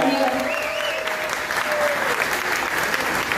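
Concert audience at an intimate live show in Estación Barranco claps in sustained, dense applause that stays steady throughout, with a voice briefly heard over it at the start.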